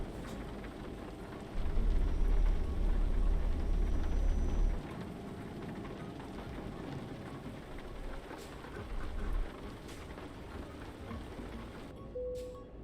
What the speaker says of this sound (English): I was thinking the rain was clearing up